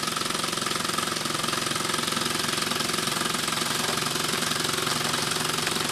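A Mamod TE1 model steam engine, geared down through several stages of Meccano gears, runs continuously with a busy, even mechanical clatter and hiss, steady and close throughout.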